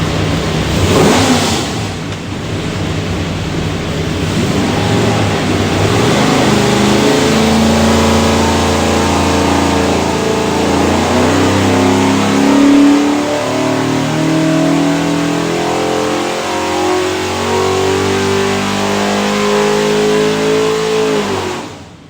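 A 427ci small block Ford engine with a Pro Billet distributor, built for a 1966 Mustang, pulls hard on a dyno: a loud, close roar climbs steadily in pitch through a long wide-open run, then cuts off abruptly.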